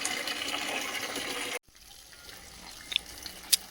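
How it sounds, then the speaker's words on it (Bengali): Tap water runs steadily for a garden watering, then cuts off abruptly, leaving a quiet outdoor background with a couple of faint drips. "এদিকে বাগানে জল দিচ্ছে"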